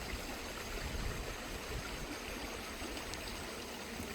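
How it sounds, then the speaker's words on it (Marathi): A calm stream flows with a soft, continuous rush and faint trickling, even and unbroken from start to end, with no talk. "शांत आणि थंड मनाने वाहत जाणार निखळ पाणी"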